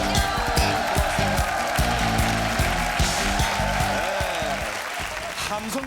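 Loud, sustained applause from a studio crowd of army reservists and active-duty soldiers of the Biryong division at a Korean TV show taping, clapping steadily over a music bed throughout.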